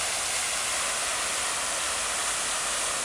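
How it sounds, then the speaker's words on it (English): Steady, dense rushing of water from a fountain geyser in a spa park, a constant broadband splash close by with no voices. "You like the water fountain, Daisy?"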